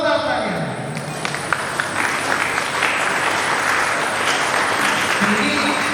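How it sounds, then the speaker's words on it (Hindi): A large crowd of youth in a hall at a Youth Bible festival breaks into loud, continuous applause, a thick roar of clapping that carries on for several seconds with voices mixed in. "जोरदार तालियां।"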